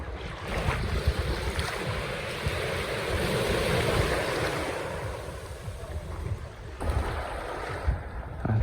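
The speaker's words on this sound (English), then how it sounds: "I found a nice stretch beach where you can just walk along, paddling the edge of the tide." Ocean surf washes steadily onto a beach at Dravuni Island, Fiji, a continuous broadband roar of breaking waves with some wind buffeting the microphone, loud and close throughout.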